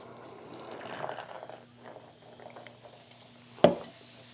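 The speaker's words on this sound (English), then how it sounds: "give it a pour and try." A can of Jack Daniels and Coke is poured out, with a soft fizzing, liquid hiss early on that fades to quiet, and a single sharp clink near the end.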